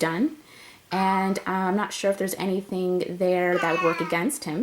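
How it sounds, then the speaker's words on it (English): A domestic cat meows several times, close and fairly loud, its cries mixed in with someone talking over it. "that's my cat"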